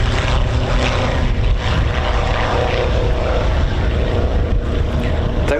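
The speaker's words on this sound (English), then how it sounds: "Those are diesel engines. High-speed diesels." At the Old Buckenham Airshow, an aircraft with high-speed diesel engines passes close, making a loud, steady propeller drone that fills the whole stretch without a break.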